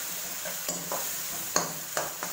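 Ginger-garlic paste sautéing in a pan for chickpea curry with chicken kofta gives a steady close sizzle, punctuated by several sharp scrapes and clicks of stirring.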